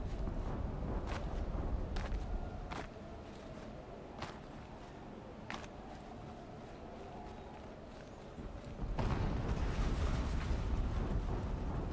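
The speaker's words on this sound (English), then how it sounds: "An explosion." Several explosions in the video game Horizon Zero Dawn, heard as sharp bursts among rumbling, clattering game sounds, with a louder rumbling swell toward the end.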